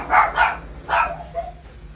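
Dogs bark in three or four sharp, moderately close yaps within two seconds, followed by a softer whimpering tail, with no talking.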